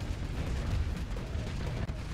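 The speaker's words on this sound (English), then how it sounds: "There's another explosion." A deep, rumbling explosion during a space battle in the game Starsector, a sustained low boom heard alone with no talk over it.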